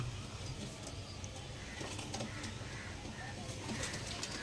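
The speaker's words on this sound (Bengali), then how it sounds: "ভালো পায়রা পিওর পাঞ্জাবি মালবাহী পায়রা" Purebred Punjabi cargo pigeons coo softly and repeatedly against a faint, continuous background hum.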